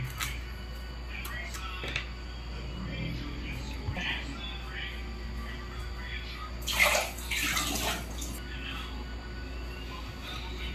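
Tap water runs steadily over eggplant being washed for dinner, a close, continuous splashing gush that swells briefly near the end while a person talks over it.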